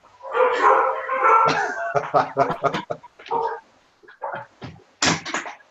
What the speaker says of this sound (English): dog is giving us a lot of feedback